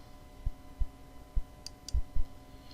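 Several soft, quiet clicks of a computer mouse come at irregular intervals while someone navigates an Access database program. The clicks sit close over a low hum, with no voices.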